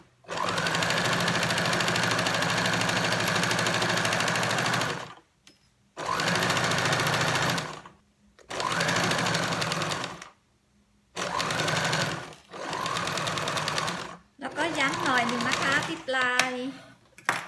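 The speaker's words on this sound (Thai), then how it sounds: "มาดูวิธีการเย็บกันนะคะ" Electric sewing machine stitching elastic-waist shorts, close and loud, running in several steady bursts separated by short pauses, with a voice over the last burst.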